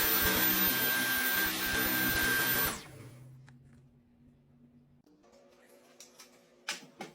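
Dyson V11 cordless stick vacuum running loud and steady on a rug, then switching off and winding down to a faint hum, followed by a few light clicks.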